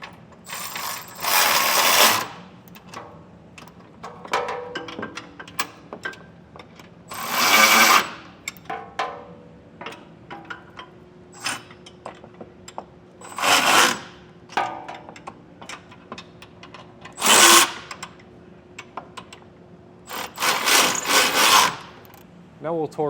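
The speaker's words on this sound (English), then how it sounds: "Now we'll take our wrench and a socket, which are 3/4 inch by the way," A ratchet wrench with a 3/4 inch socket tightens a Curt Class III trailer hitch's bolts on a 2012 Jeep Wrangler, heard as repeated bursts of rapid pawl clicking separated by pauses, close and clear.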